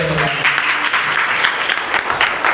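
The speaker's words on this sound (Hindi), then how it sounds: "ताली बजा के प्रभु को।" A church congregation claps together during a sermon, loud, dense applause that holds steady for a couple of seconds, with faint voices mixed in.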